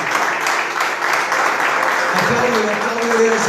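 A church congregation applauds during a worship service with a dense, steady wash of clapping that fills the whole clip, with a voice or tones faintly underneath.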